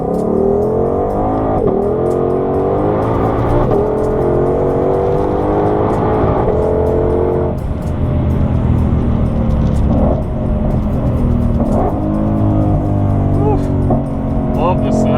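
A 2020 Shelby GT500 pulling hard in first gear with manual paddle shifts, its engine note rising and then dropping at each of several shifts, loud and close, with occasional talking.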